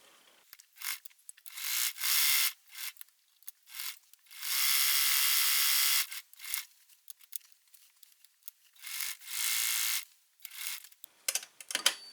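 Stitching along the bottom of a large shirt pocket, heard as a handful of separate bursts of bright mechanical whirring. They vary in length, one running about two seconds, with quiet pauses and small clicks between them.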